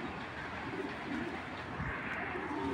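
A racing pigeon gives soft, low cooing calls close by against a quiet background hum.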